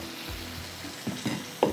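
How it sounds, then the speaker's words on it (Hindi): About half a cup of water is poured into a hot pot of rice with yakhni, giving a soft sizzle and hiss with a few small bursts and a sharper splash near the end. "आधा कप जितना इसमें पानी डालूंगी"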